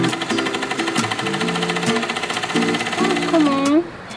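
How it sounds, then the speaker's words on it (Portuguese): A sewing machine stitches the hem of a curtain, running in short close bursts with a rattling mechanical buzz, stopping and restarting several times, with a voice briefly audible near the end. "Bora pra máquina fazer isso então."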